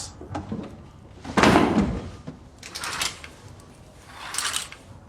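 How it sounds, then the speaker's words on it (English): Knocking on a door, heard as a few separate dull wooden thumps spaced across a few seconds, moderately loud and close, with no talk over them. "Thought I heard someone knocking."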